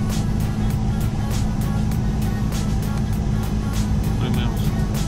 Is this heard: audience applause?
no